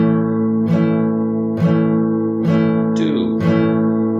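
An acoustic or electric guitar plays a twelve-bar progression starting from A, with four evenly spaced strummed chords ringing out clearly and alone.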